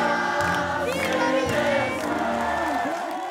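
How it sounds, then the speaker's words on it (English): Lakeside crowd cheering, whooping and applauding for Italian winners at an XCAT world series powerboat race in Arona, Italy, a loud continuous roar of many voices with shouts rising and falling over scattered claps. "As the Italians lap up their well-deserved applause"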